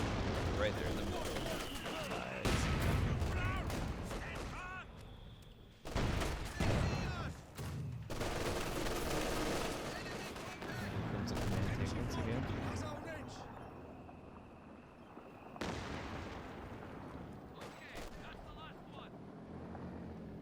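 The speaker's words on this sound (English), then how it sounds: "rocket shot coming in. Just decimates the MG." Rocket strike and machine-gun fire in the Company of Heroes 2 strategy game, with loud booming impacts and rattling bursts, mixed with in-game effects and heavy commentary talk throughout.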